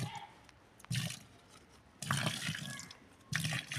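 Water from a bucket pours into an earth rod pit for a galvanized iron and copper rod, coming in three splashing, gushing bursts separated by quieter gaps.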